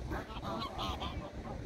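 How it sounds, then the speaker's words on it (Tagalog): Several geese honk repeatedly in overlapping calls, fairly close and steady, with no talking, at Aspire Park in Doha, Qatar. "Ayun, yung mga gansa."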